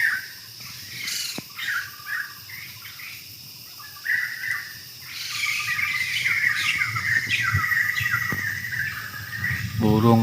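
Many birds call and chirp in a forest at a night camp used for bird trapping, overlapping tweets and squawks near and far over a steady insect buzz, with no talking.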